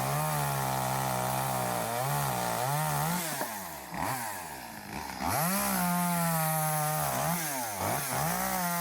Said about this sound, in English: but eventually a gardener called Mario speeded up the whole process with a chainsaw